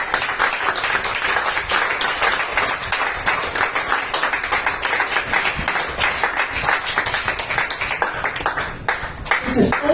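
Church congregation claps in a sustained burst of applause, dense and lively throughout, with voices calling out beneath the clapping.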